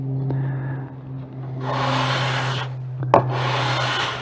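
A card scraper is dragged down against a square wooden guide block for sharpening, giving a steady scraping rub for a couple of seconds, then a short click and a second stroke, close and alone.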